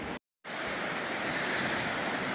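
A river running beside an abandoned 150-year-old Pennsylvania coal town, its steady broadband rush of water close to the microphone, briefly cut to silence before resuming evenly without any voices.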